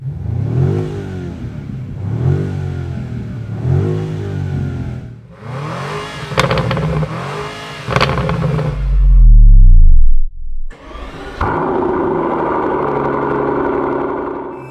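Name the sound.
V8 car engine starting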